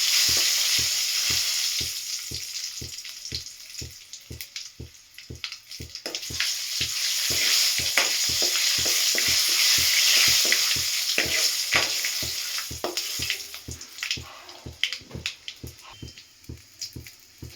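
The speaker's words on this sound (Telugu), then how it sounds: "ఇలా పోపు మరిగాక అందులో చట్నీ వేసేసుకోండి." Tempering spices sizzle steadily in hot oil in a pan for tomato chutney served with punugulu, with a close, even crackle broken by regular, evenly spaced stirring clicks throughout.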